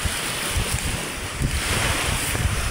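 Choppy sea with surf and strong wind noise on a Bicol coast as a super typhoon approaches, a boat moored nearby; waves wash in continuously with gusts buffeting the microphone, no talking.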